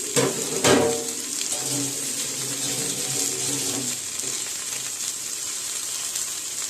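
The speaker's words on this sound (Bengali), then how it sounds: "ভালো করে ভাজা হলে আমি আগে থেকে কেটে রাখা শাকগুলো দিয়ে দেব।" Chopped spinach drops into hot oil in a pan, a loud burst of hissing sizzle that settles into a steady crackling fry.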